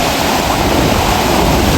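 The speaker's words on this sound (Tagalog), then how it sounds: "mapakalakas ng alon mga master." Strong ocean waves crashing on a provincial beach shore, a loud continuous roar of surf with wind buffeting the microphone throughout.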